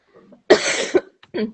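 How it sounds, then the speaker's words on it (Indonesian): One sharp cough bursts out close to the mic, followed by a short second cough after a brief pause, with faint soft speech sounds just before. "masih agak batuk"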